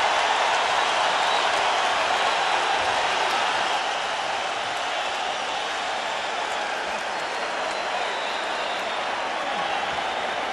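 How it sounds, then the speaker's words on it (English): A boxing crowd at Staples Center roars steadily through the end of the 11th round of Erik Morales vs In Jin Chi, a dense, sustained wall of cheering and applause with no break. "The crowd comes alive here at Staples Center."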